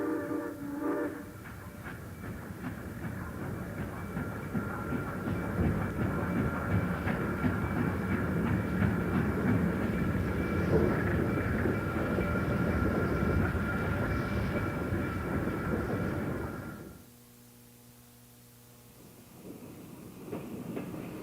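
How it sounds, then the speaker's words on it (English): A local passenger train hauled by a Class P1 Pacific steam locomotive, number 651, slows at West Chazy, rumbling and clanking loudly and steadily with a sustained whistle-like tone, then easing off into near quiet before a faint hiss returns. "At West Chazy, a Class P1 Pacific number 651 headed local slows for orders."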